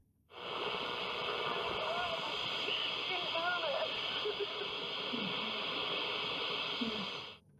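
Hissing static from an old radio tuned between stations fills the clip, a steady crackling wash with faint warbling tones and muffled fragments of distant broadcasts drifting through.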